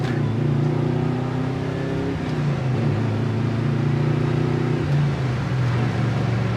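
A 1961 Chevrolet Bel Air with a 4-speed gearbox drives along, its engine humming in a smooth, steady low drone that dips briefly twice as if easing between gears, close and continuous with no talking.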